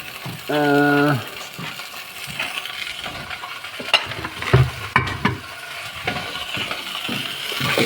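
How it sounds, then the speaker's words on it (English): Spoon stirred briskly in a drink, a rapid series of clinking taps against the glass near the start, then scraping and clattering under an ongoing background of kitchen sizzle. "And I just gotta stir it."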